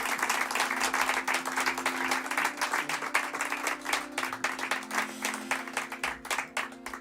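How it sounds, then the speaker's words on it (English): Audience applause at a live studio concert, dense continuous clapping from a small crowd, fairly loud and sustained for several seconds before gradually thinning out toward the end. "You give the best applause."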